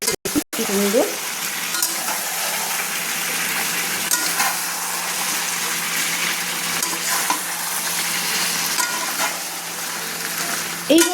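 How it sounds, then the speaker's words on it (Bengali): Chicken and potatoes cooked down in a pan without water, stirred with a spatula. A couple of sharp knocks open the clip, followed by a loud, continuous close sizzle with occasional scraping strokes. No voices. "এইভাবে আমি খুন্তি দিয়ে কিন্তু নেড়ে নিচ্ছি আবারও"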